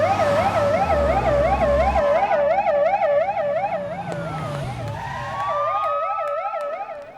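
Loud ambulance siren wailing in a fast repeating two-tone sweep, steady and close throughout with traffic rumble underneath, a second lower siren tone sliding in partway.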